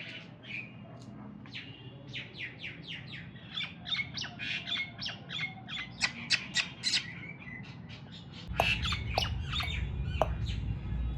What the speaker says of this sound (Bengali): ঘরের জানালায় প্রতিদিন শালিক পাখি আসে দেখবে এটা